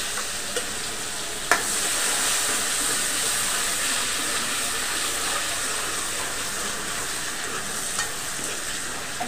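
Tomatoes and curry leaves frying with cumin in a hot pan for a masala fish curry, giving a steady, close hiss of sizzling oil with a few sharp clicks as the pan is stirred.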